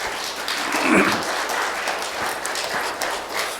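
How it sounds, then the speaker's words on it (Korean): A church congregation claps in welcome, a dense, even patter of many hands that holds steady for several seconds. "박수로 환영하겠습니다."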